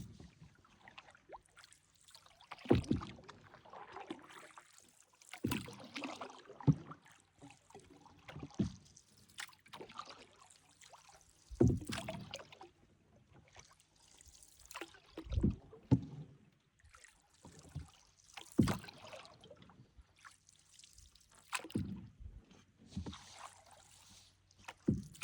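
Paddles dip and pull through the water of a lake during a canoe-camping trip in La Vérendrye, making soft rhythmic splashes and trickles every few seconds, close by and fairly quiet.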